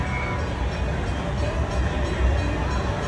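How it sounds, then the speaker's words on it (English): An amusement park train departing at Six Flags Over Texas during Fright Fest, heard as a steady rumbling roll with outdoor crowd noise, fairly loud and continuous throughout. "There goes the train"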